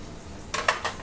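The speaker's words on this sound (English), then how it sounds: "if you can hear that, that sizzle. That's what we want when the scallops hit the pan." Scallops hitting a very hot pan crackle and sizzle in a few short bursts as they bounce about, loud and close, with no talking over them.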